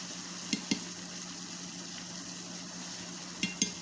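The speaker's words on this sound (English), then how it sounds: "and then I'm going to baste the steak." Steak basting in butter with garlic and onions, a soft steady sizzle in a pan punctuated by a few light clicks of a spoon or utensil, no talking.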